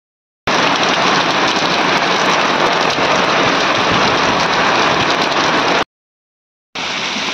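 Heavy rain pours down in a loud, dense, steady roar, cutting off abruptly and then resuming after a short silence.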